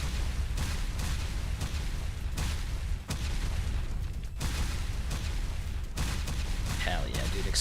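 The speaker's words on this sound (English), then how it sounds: "Explosions everywhere, dude." Combat in the video game GFL2 Exilium: rapid bursts of gunfire and booming explosions pile up densely, loud and sustained, with short gaps between volleys and a voice talking over them.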